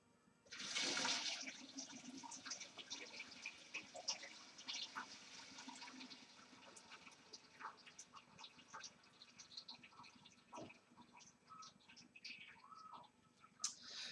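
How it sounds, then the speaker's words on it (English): Wort poured through a small sieve into a vessel during home brewing of an IPA, a loud splashing gush at first that settles into a steadier trickling flow with scattered drips, close by and without talk. "And I pour that into there."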